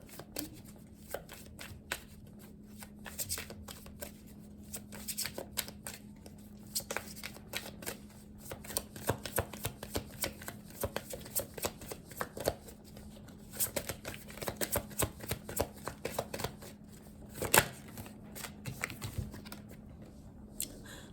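Tarot cards being shuffled during a reading, a soft, continuous run of quick papery riffles and flicks close by, with a low steady hum underneath and one sharper snap near the end.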